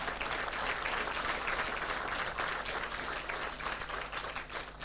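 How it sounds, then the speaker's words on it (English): A large audience at a university policy launch rises in a standing ovation for the chief guest, with dense, sustained applause filling the room evenly from start to finish. "Please stand up and give a big round of applause to our chief guest."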